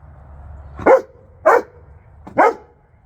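A dog barks three times, close and loud, evenly spaced over a low background hum.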